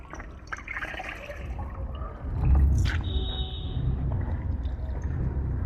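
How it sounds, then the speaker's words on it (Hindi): Cloth soaking in a bucket of water, with a steady wet sloshing and trickling and a louder splash of swirling water partway through, close and continuous with no talk. "अब ये कपड़े को हमने भिगा दिया"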